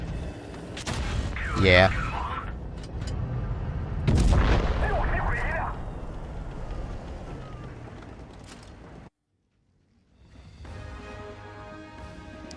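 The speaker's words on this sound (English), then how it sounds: "He's probably shooting my cupola." Heavy tank cannon shots boom in a World of Tanks Blitz battle, two deep, loud blasts a few seconds apart with rumbling decay, followed by a brief silence and quieter in-game ambience; a player speaks briefly.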